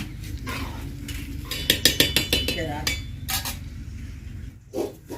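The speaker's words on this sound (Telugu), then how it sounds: "ఒకసారి కలుపుకొని మూత పెట్టేసుకుందాం" Metal spoon stirring and scraping food in a home-kitchen cooking pot, a run of sharp clinks and taps, then a lid set down with a clatter, close and fairly loud with no talking.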